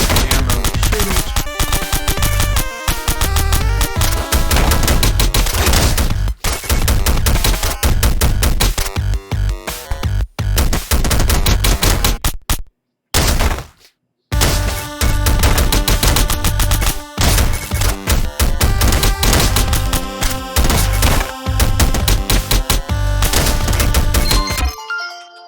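Rapid bursts of gunfire as enemies are shot in a cavern level of a video game, loud and nearly continuous over dense electronic game music, with a couple of brief dropouts midway.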